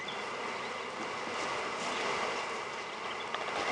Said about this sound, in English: I want to encourage the bees